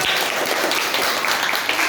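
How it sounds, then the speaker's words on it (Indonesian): Classroom audience applause during a teacher's practical performance test lesson, a steady, dense patter of clapping filling the whole stretch with no voices over it. "tepuk tangan dulu dong"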